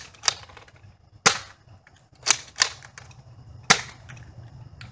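A BuzzBee Air Warriors Ultra Tek Night Tek foam dart blaster fired outdoors, five sharp snapping pops spaced about a second apart and loud and close over faint background hiss, with no talking.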